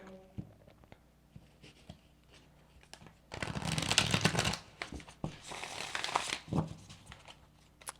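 Mystical Shaman Oracle cards being shuffled during a tarot reading: a few soft riffles and papery card flutters, louder bursts in the middle of the clip, close by with no voices.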